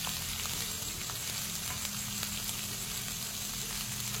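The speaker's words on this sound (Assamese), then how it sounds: "কল পচলাখিনি দি লৈ ধুনীয়াকৈ অকণমান লৰাই ঢাকন দি ভাজি ল'ম" Potatoes and banana flower fry in a covered pan, giving a steady, close, even sizzle with faint crackles throughout and no talking.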